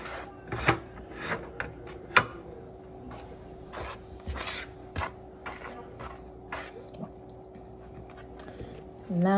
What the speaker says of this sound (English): I'm just gonna mix this with my hand a little bit.